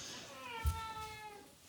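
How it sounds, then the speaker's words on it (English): A cat meows once in a quiet home kitchen during meal preparation, a single short call faint against soft room tone. "And a cat."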